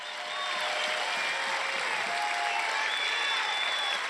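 A large political rally crowd in Detroit, Michigan applauding, dense sustained clapping with scattered whistles and cheers, loud and steady throughout.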